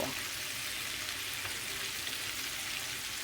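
Soft, steady sizzling and crackling of spicy French-fried chicken frying in hot oil, quiet and constant with no talking.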